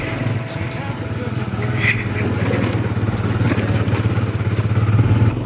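A motorcycle engine drones steadily through a ride in Kenya, with low constant engine noise, faint rattles and a light thump. A voice is partly heard over it.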